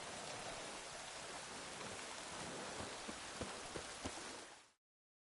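Steady rain falling in The Witcher 3: Wild Hunt, a soft, even hiss of drops with a few faint low thumps, fading out abruptly near the end.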